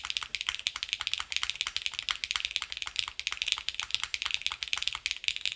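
Rapid, steady typing on a mechanical keyboard fitted with a Nixie spacebar, crisp close clacks in a continuous flurry with a slightly subdued, scratchy character.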